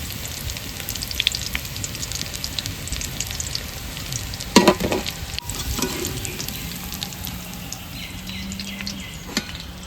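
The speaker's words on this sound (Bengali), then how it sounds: "এবার বাকি ডিমগুলো ভেজে নিই একভাবে" Fish roe fritters fry in foaming oil, giving a continuous soft crackling sizzle up close with scattered pops and a brief louder burst partway through, and no talking.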